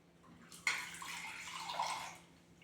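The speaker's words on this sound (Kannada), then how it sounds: "ನೀರು ಹಾಕಿ ನಮಗೆ ಎಷ್ಟು ಬೇಕು ನೀರು ಹಾಕ್ಕೊಳ್ಳೋಣ ಅಷ್ಟಕ್ಕೆ." Water is poured into a pot of sambar, a short, soft splashing pour that starts abruptly, runs for over a second, and then tapers off.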